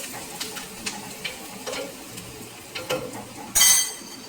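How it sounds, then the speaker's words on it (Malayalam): Light scraping and clinking of a spatula stirring moda fish frying in a pan, with a soft sizzle and a brighter burst near the end. "ഇങ്ങനെ നമുക്ക് ചെറുതായിട്ട് ഇളക്കി കൊടുക്കാം"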